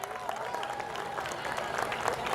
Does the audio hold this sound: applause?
yes